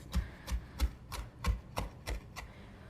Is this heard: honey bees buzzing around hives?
no